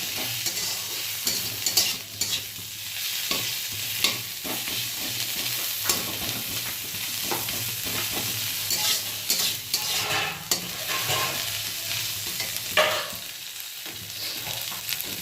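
Neem leaves with salt and turmeric get stirred in a frying pan, a continuous soft sizzle with repeated scraping strokes of a spatula, close and steady, no talk.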